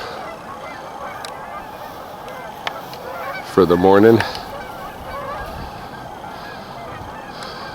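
A brief burst of honking geese by a river rises once over steady outdoor noise, with a few words spoken faintly nearby.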